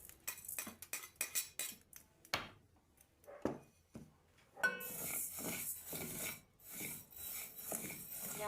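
Dry sago pearls rattle and scrape in a pan on the stove, with intermittent stirring strokes and clinks that build into a denser, continuous rustle partway through.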